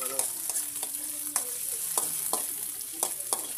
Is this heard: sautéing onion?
yes